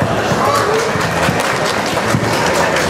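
A crowd at a sports awards ceremony during a town patron-saint festival applauds the municipal president, steady loud clapping that fills the whole stretch with a few voices mixed in.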